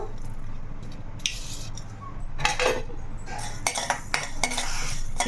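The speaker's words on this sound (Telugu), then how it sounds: "మెంతులు జీలకర్ర ధనియాలు చెక్క లవంగ లవంగాలు అనమాట ఇవి కొంచెం వేపించుకుందాము" Fenugreek, cumin, coriander, cinnamon and cloves dry-roasting in a pan, heard as close, light scraping and stirring with a utensil, with small clinks and rattles of the spices that come in short bursts and grow busier toward the end.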